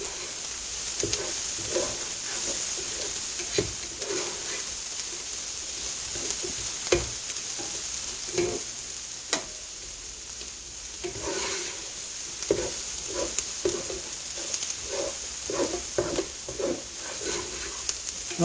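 Garlic fries in a pan for a corn and shrimp chowder, a steady close sizzle with a utensil stirring and tapping against the pan at irregular intervals.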